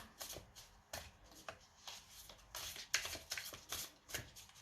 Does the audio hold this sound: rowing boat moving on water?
no